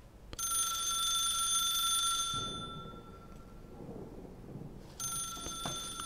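An office telephone rings inside the video game The Suicide of Rachel Foster: a long loud electronic trill, a pause filled with faint room sounds and shuffling, then the ring starts again.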